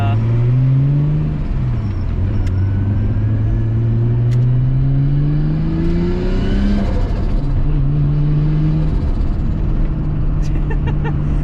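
A tuned R33 Nissan Skyline with its turbocharged RB engine pulls hard through several gears, loud and close, pitch climbing and dropping at each shift, and a voice is heard over the engine.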